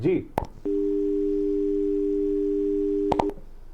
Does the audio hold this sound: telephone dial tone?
yes